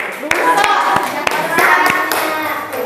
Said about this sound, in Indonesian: Tepuk tangan buat Dewi.